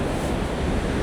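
Atlantic ocean surf and strong wind make a dense, steady roar with no breaks, loud and close with buffeting on the microphone.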